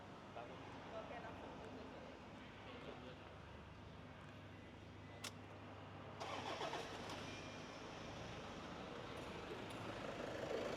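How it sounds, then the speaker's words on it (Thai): A Toyota Fortuner's engine cranks and starts partway through, rising into a steady idle over a constant background hum, heard from a moderate distance at fairly low level. "เดี๋ยวสตาร์ทมานะ"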